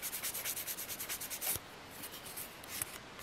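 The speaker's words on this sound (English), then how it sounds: "let's sand these down" Sanding plastic parts from an Airfix 1:72 Nakajima B5N2 Kate model kit, a quick run of rhythmic rasping strokes up close, then softer scratchy rubbing.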